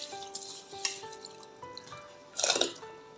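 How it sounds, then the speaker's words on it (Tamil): Rice tipped into a pot of simmering moong dal, a short burst of grains and liquid splashing near the end, preceded by soft bubbling and clinking with faint tonal hums in the background. "இப்போ ரைஸை சேர்த்துடலாம்."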